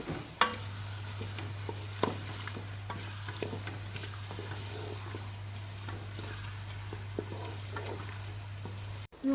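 Chopped onions fry in a pan over a medium flame, a steady close sizzle under a constant low hum, punctuated by scattered clicks and scrapes of stirring; no talking.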